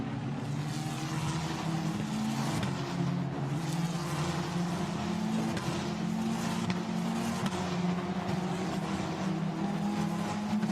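Formula Renault Eurocup race cars at Magny-Cours circling slowly behind the safety car, a steady droning engine hum with layered overlapping tones held throughout, no talk over it.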